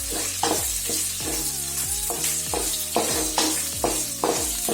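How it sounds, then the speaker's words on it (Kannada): Fifteen red chillies frying with onions in a pan for suvarna gedde pulimunchi, a loud steady sizzle with repeated stirring scrapes at a regular pace, close up and with no voices. "ಇದು ಸಹ ಸ್ವಲ್ಪ ಫ್ರೈ ಆಗಬೇಕು."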